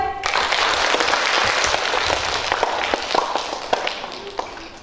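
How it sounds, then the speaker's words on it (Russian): Applause from an audience at a poetry-reading contest, dense and steady at first, then thinning into scattered individual claps over several seconds. "Хлопаем."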